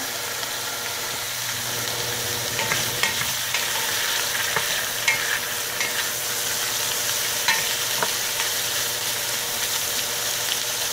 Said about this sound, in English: we're going to saute it in a little bit of olive oil